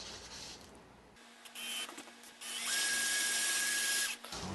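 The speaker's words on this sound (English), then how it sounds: "after I've drilled a hole into the center here" A power drill bores a hole into the center of a block of ice, its motor starting after a pause and running as a loud, steady whine that grows rougher and heavier as the bit grinds in, close by.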